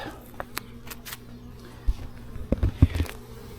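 Faint buzzing of honeybees up close, with scattered soft taps and knocks of handling frames during a hive inspection.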